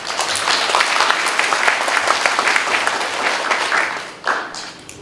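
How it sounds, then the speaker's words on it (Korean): Audience applause at a Korean government briefing session on a large-scale AI ecosystem project, a steady dense clapping from a hall crowd that holds for several seconds, then dips briefly before picking up again near the end. "역시 힘찬 박수로 맞아주시면 감사하겠습니다."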